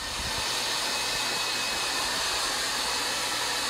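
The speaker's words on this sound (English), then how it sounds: "Happy blow dryer." A blow dryer runs steadily and close during a haircut before a square dance, a continuous loud whooshing roar with no talk over it.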